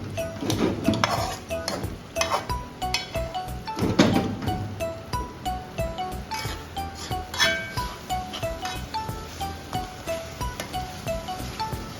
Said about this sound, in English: this is me just mixing and making sure the salt is completely mixed well